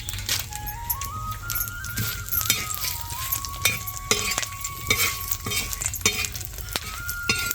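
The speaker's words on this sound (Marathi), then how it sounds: "असं लाल दरच भाजून घ्यायचं खोबरं आता मिरच्या भाजून घेते" Coconut and red chillies dry-roasting in a pan, with steady scraping and stirring, faint sizzle and occasional metal clinks of a spoon against the pan, heard alone.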